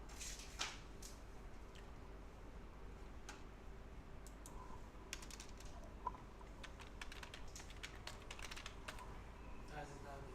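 Computer keyboard typing during a Bootstrap coding class, an irregular patter of fairly faint key clicks over a steady low hum, with occasional louder taps.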